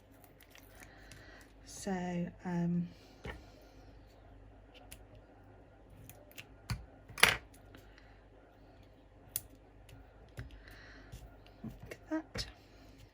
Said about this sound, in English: And then cut these down to thin strips.